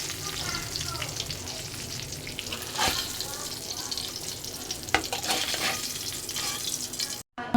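Poa (pona) fish fry in a pan for a fish curry with yardlong beans, giving a loud, close sizzle. Sharper crackling bursts pop out now and then, along with faint stirring noises.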